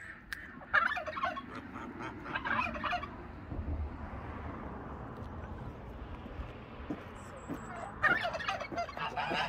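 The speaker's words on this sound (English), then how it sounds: "Oh, it's a turkey." Turkey gobbling outdoors in a Scottish hill village, several loud rattling gobble bursts near the start and again near the end, with quieter ambient noise between.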